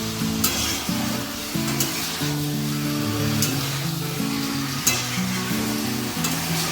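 Meat frying with chili powder and a little turmeric, a continuous close sizzle with periodic scraping stir strokes, while a tonal melody plays steadily underneath.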